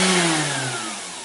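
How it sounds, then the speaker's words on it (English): A straight-line sander that moves back and forth rather than orbiting starts up beside a merino wool batt for felting, its motor whining close and loud at first, then easing slightly over about a second. "it's not an orbital sander which goes round and round, it just goes backwards and forwards"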